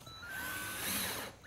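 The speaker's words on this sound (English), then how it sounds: "I'm going to put the screws in it so we can hold the two pieces of plywood together" A power drill drives screws through two pieces of plywood for a flat-bottomed wooden boat, one sustained whirring run lasting just over a second, close and fairly loud, with no talking.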